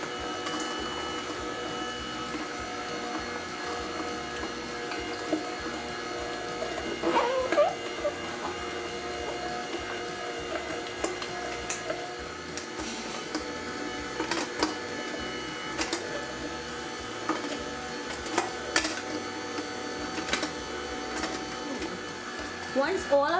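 A Comfee juicer whirs steadily as it juices cranberries and raspberries, a constant motor drone with tonal hum and occasional clicks and rattles from fruit feeding through the machine, fairly close and running alone without talk.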